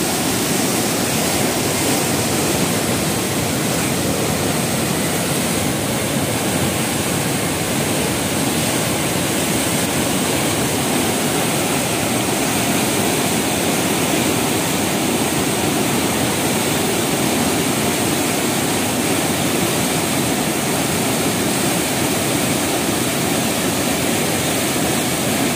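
The flooded Godavari river in Nashik rushes after heavy overnight rain in a dense, unbroken roar of churning water, loud and steady throughout with no voices.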